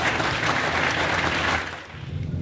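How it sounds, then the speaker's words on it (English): A ceremony audience cheers and applauds loudly during a historic announcement, a dense, steady wash of clapping and voices that fades somewhat toward the end. "You can hear everyone in here cheering"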